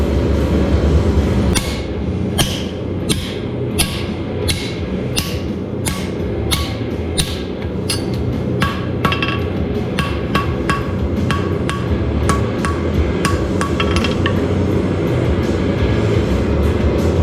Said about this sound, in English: I'm going to take the hot steel in here, hit it with a hammer, and pinch it half round